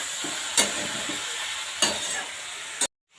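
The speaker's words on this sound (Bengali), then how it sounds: "এর সঙ্গে একটু ভেজে নেব" Bitter gourd frying in a pan, a steady close sizzle broken by three sharp scraping stirs of a spatula at regular intervals before cutting off.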